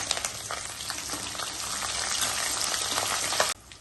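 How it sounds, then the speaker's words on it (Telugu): Garlic, cumin and curry leaves crackle in hot oil for a tempering, a dense, even sizzle close by that cuts off abruptly near the end. "ఆయిల్ వేడెక్కిన తర్వాత తాలిం సరుకులు వేసుకోవాలండి"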